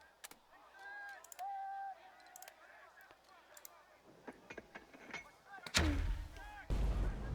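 Artillery shelling a squad in the video game Burden of Command, heard as a sudden heavy booming explosion and rumbling blasts near the end, after softer scattered game effects and tones.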